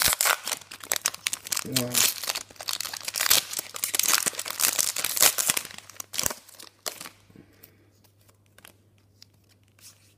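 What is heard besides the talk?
tearing open a Pokémon card booster pack by hand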